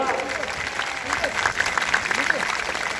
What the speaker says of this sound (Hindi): रमन भल्ला जी का भी जोरदार तालियों से स्वागत।